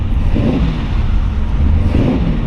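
A hopped-up flathead V8 in a 1940 Ford Tudor slantback with a C4 transmission runs steadily and loud up close, a deep rumbling idle that rises slightly in a couple of revs.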